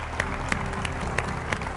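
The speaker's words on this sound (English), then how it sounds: "Give them a big round of applause." Audience applause and cheering at a televised motor-sport championship grand finale, greeting the winning team; steady crowd clapping with sharp accented claps recurring through the short burst.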